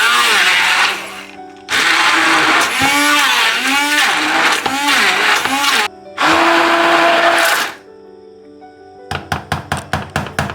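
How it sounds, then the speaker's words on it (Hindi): An electric hand beater whirs loudly in several long bursts while mashing cut mango cubes into puree, with short pauses between runs and a series of sharp knocks at the end. "मेरे पास ये बीटर है तो मैं इससे ही कर रही हूँ।"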